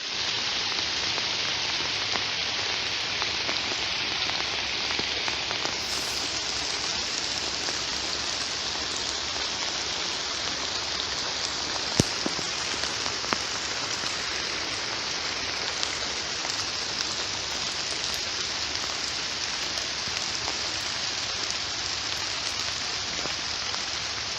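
Steady rain falls on a mountain trail in cold weather, a dense, even hiss of drops on the ground and foliage that holds without a break, with a couple of brief sharper taps partway through and no talking.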